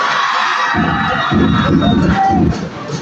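A school presentation crowd for the Water Tribe cluster cheers and shouts loudly and steadily for about three seconds, a dense wash of voices with a throbbing low rumble that eases slightly near the end.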